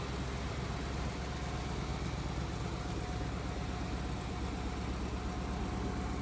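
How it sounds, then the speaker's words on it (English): A 2015 Ford Mustang GT with the 5-liter Coyote engine idles in a steady, even low rumble, continuous and unchanging throughout with no voices. "Of course, it has the 5-liter Coyote engine in there."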